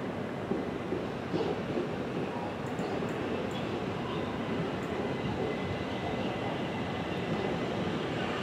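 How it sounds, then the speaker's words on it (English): A Class 375 electric multiple unit arrives at London Waterloo East on its way to Charing Cross, giving a steady, broadband rumble and rail roar that stays loud and even throughout, with no talk. "Here comes the 375 bound for Charing Cross."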